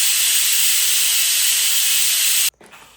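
A pressure cooker lets off steam in a loud, steady, bright hiss that holds for about two and a half seconds, then cuts off abruptly, leaving a quiet kitchen with faint small sounds.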